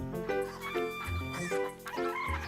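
Cartoon hens clucking and squawking near at hand in a barnyard, with bright harmonic calls in quick bursts and a yappy, dog-like edge over a steady musical background.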